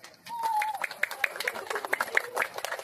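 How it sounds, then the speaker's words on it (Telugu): Guests at a ring engagement ceremony clap in a loose, scattered patter, quiet and somewhat distant, with voices faintly under the claps. "claps claps claps"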